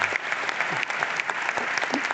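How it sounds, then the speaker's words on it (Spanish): Steady applause from a live audience at a Spanish science talk on spacetime, dense and continuous throughout without breaks, close and fairly loud. "un aplauso para José"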